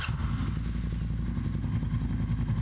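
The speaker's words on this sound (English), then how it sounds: "This first audio clip is of the engine starting on the motorbike" A motorbike engine starts up and settles into a steady, close, loud idle with a rhythmic low chugging and a faint mechanical clatter, no voices.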